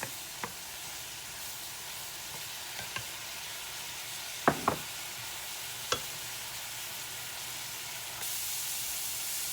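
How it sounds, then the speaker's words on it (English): Squash and vegetables sizzle steadily in butter with garlic powder in a pan, a soft continuous hiss broken by a few sharp clinks and scrapes of a utensil. "With that garlic powder and them vegetables cooking in that butter."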